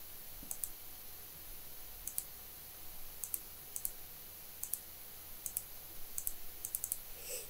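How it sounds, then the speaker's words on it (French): Keys on a calculator are pressed in quick, light clicks, arriving in small pairs and clusters of taps across a quiet room with no talking. "je le tape à la calculatrice"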